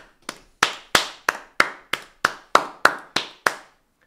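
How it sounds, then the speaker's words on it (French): Around eleven sharp hand claps ring out in a slow, slightly uneven rhythm, close and fairly loud, each with a short room decay, with no talking. "Plaisir, applaudir."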